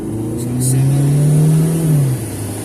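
A car engine revs up and eases off while driving in heavy traffic, a close, steady mid-pitched drone that swells for a second or two and then drops back to a lower hum.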